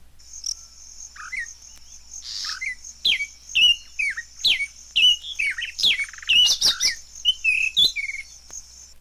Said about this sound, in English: the warbler arrives in the bush and opens his engagement with a couple of loud chortles